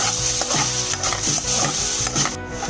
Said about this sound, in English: I'm then going to mix this really well with the rest of the spices